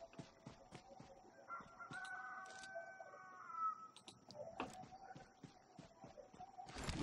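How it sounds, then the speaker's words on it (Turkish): A rooster crows clearly in the middle distance in the video game PUBG Mobile, amid clucking and scattered taps, with a steady background hum. "Az önce horoz etti."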